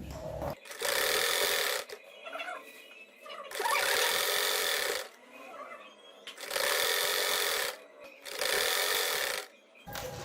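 A sewing machine stitches the pleated bow cuff of a salwar in four distinct bursts of rapid, steady whirring, each about a second long, with quiet pauses between them.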